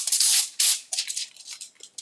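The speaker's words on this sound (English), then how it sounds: "I'm going to spray this with, it could be the oil of your choice" A few short hissing sprays of macadamia nut oil from an aerosol can, close by, in quick bursts with brief pauses between.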